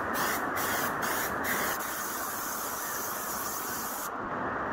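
Maston spray seal aerosol spraying onto a metal sieve with holes, a close, steady hiss broken by a few short pulses, then a long continuous spray that stops sharply near the end.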